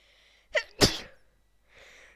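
A single sneeze in a two-part burst, a sharp intake followed by a loud explosive release, close and clear against quiet background with faint noise before and after.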